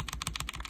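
Linear mechanical keyboard switches are pressed in quick succession, giving a rapid, close run of soft clacks with no talk over them.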